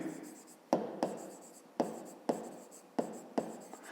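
A pen writing on paper for a math exercise, about six crisp taps and scratches spaced roughly half a second apart, close and fairly quiet over a faint room hum.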